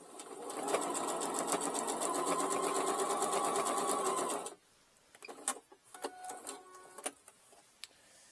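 Sewing machine stitching the side seams of a zipper pouch made from a dish drying mat runs as a steady close-up mechanical whir for about four seconds, then stops, leaving scattered small clicks and handling noises.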